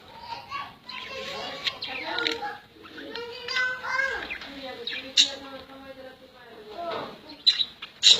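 Budgie parrots chirping close by in a breeding setup, bright scattered tweets and chatter mixed with someone talking.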